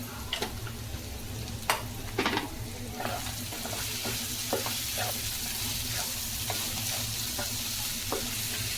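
Mutton frying in a pan with garam masala, chilli and pepper powder, stirred steadily: a continuous close sizzle broken by scattered scraping and tapping strokes of the spoon.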